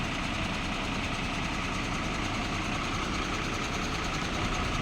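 A vehicle engine idling while being loaded with sugarcane at a sugar mill, a steady loud low rumble that holds unchanged throughout, with no pauses.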